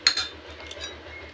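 A spoon stirs mixed vegetable dal in a pot, opening with a couple of sharp metallic clinks and followed by softer scrapes and taps over a low steady hum. There is no talk.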